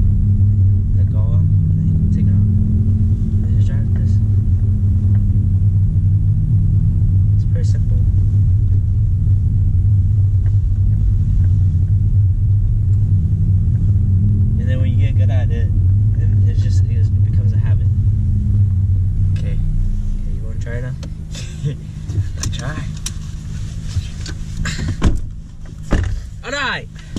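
A Honda Civic Type R idles with a steady low engine rumble as a beginner learns to drive manual; the drone fades after about twenty seconds, leaving quieter cabin noise and a few clicks while voices talk.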